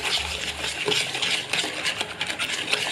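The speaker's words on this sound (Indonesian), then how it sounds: "kemudian kita aduk hingga rata" Egg yolks and sugar are stirred in a bowl, a steady wet scraping and clinking of a utensil against the bowl in repeated strokes, close and fairly quiet, with no talking.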